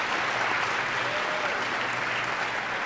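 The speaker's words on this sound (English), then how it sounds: "a little round of applause for our phenomenal team at ASO" Audience applause at a pharmacy credentialing town hall meeting, a steady dense wash of clapping hands sustained for the whole stretch at moderate loudness, with no voices standing out.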